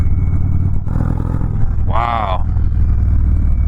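Indian Chief Darkhorse motorcycle engine rumbling loudly and steadily, with wind noise, while a rider speaks briefly over it.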